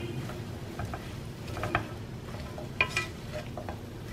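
Ground masala and vegetables for avial are sautéed and stirred in a pan, a soft steady sizzle with occasional clinks and scrapes of the spoon against the vessel.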